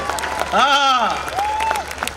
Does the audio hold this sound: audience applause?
yes